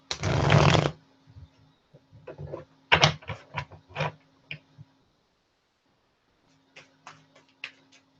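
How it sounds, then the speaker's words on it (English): Tarot cards being shuffled by hand, an opening burst of riffling followed by scattered taps and flicks of the deck, close and crisp, with quiet gaps between bursts. "I forgot to shuffle my tarot decks."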